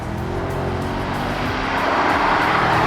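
Engine of a Mercedes-AMG SL 55 convertible roaring as it is driven hard, a loud continuous growl with rising and falling tone, close and alone.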